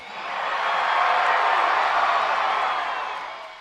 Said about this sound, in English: If anyone could have gotten the crowd to cheer in his favor in this stadium